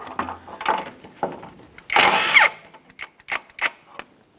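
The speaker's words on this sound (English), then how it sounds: "I'm going to be using an 18mm for my outer tie rod end mounting nut." An 18mm socket loosens the outer tie rod end mounting nut on a 2012-2015 Honda Civic, giving a close burst of ratcheting or power-tool whirring with short clicks and knocks before and after.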